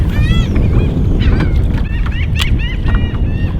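Birds call repeatedly in short honking bursts near a bayou during a kayak fishing trip, close and fairly loud over steady wind and water rumble.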